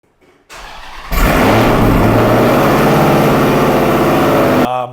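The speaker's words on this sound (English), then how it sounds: "I added the AWE touring exhaust, the resonated version, because this car does have long tubes and no cats, and it is loud as hell." A 2015 Dodge Hellcat with long-tube headers, no catalytic converters and an AWE touring exhaust, resonated version, fires up with a sharp starter whine, then settles into a loud, deep, steady idle before cutting off abruptly.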